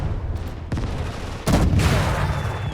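Dense gunfire in the World War II game Call to Arms - Gates of Hell, with a rapid burst of shots and heavy booms, growing louder and more intense about halfway through and echoing continuously with no talking.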